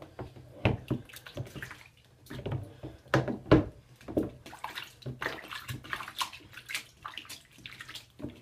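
Water from a baby's bath being drained and dumped out, heard as irregular splashes and pours with knocks of a plastic tub, close and moderately loud, with no talking.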